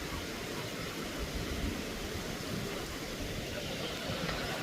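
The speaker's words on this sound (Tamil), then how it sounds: "அந்த தண்ணி சத்தம் அப்படியே நீர்வீழ்ச்சியிலேருந்து கொட்டுற மாதிரி." Water pours and roars like a waterfall in a constant, dense rush of noise that stays even and fairly loud throughout, at Beauval zoo park in France.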